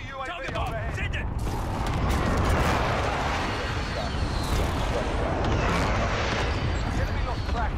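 Cluster strike explosions in Call of Duty Warzone rumble as a dense, continuous barrage of booms and blasts, loud and sustained across the whole stretch with heavy low-end roar and crackling debris.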